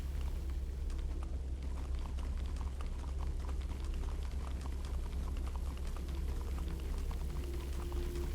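Steady rushing of running water through an indoor water system in Minecraft: Story Mode, a dense continuous splashing wash with faint bubbling detail, constant and fairly loud throughout.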